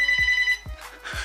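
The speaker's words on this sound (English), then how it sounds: "Every time I turn around, I try to make a video, and then the phone rings." A telephone rings indoors in short, repeated electronic bursts at a steady pulse, heard fairly close and clear, with low thumps in between and no voices over it.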